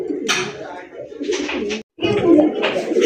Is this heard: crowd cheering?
no